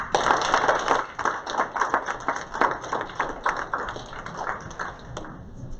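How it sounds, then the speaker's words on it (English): Scattered clapping from a modest audience at a real estate association's awards and installation ceremony, uneven and thinning rather than a full ovation, with sharp individual claps standing out over several seconds. "Let us give them a round of applause."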